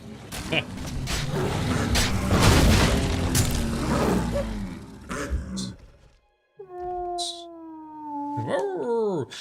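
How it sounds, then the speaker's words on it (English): Dog whimpers during combat in the Oblivion video game, heard as rising, tonal whines and yelps following a loud roaring creature fight, close and prominent, with brief quiet gaps between cries. "the dog whimper sounds from combat, they're a bit much"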